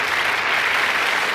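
A studio audience on a Chilean television show delivers a steady, dense burst of applause, brief and even throughout with no talk over it.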